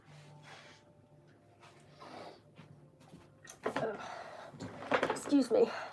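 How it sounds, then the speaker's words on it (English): Someone blows their nose close to the mic after quiet room sounds, producing a few loud, snorting, breathy blasts in quick succession near the end. "One moment, I need to blow my nose."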